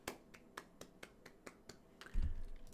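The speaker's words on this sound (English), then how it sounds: "Small clap." A soft, quick series of small hand claps, around ten light taps in an even rhythm, followed by a low thump at the end.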